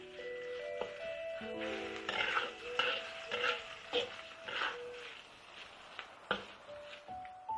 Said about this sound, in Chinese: 再放1勺豆瓣酱，这个很关键，炒香，炒出红油。